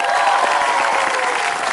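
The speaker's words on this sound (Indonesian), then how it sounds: "Tepuk tangan dulu buat acara yang luar biasa Asal ini." Brief, loud, dense clapping from a TV studio audience on an Indonesian game show, continuous for under two seconds with no pause.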